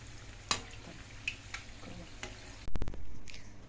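Gulgule, round sweet dumplings, frying in hot oil, a steady low sizzle with a few sharp clicks and clatters, then a louder burst of bubbling and rushing near the end.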